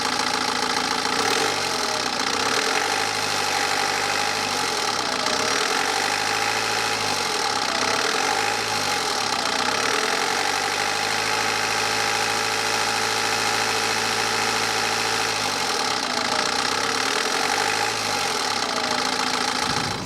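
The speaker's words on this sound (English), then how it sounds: "Let's give it a rev as well and see" A car engine with a suspected worn timing chain idles and is revved several times, the pitch rising and falling in repeated swells over a constant mechanical rattle, close and loud with no talking.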